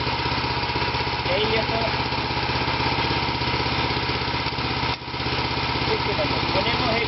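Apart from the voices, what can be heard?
BCS 738 8HP walking tractor engine idling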